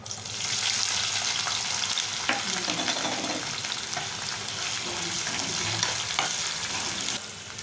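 Sliced onion and green chilies fry in hot oil over a tempering of urad dal, cumin and mustard seeds, giving a loud continuous sizzle with occasional stirring scrapes throughout, no voices.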